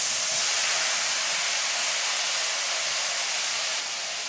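Spiced masala paste hits hot oil in a home kitchen, giving off a loud, steady sizzle with no breaks that eases off only slightly toward the end.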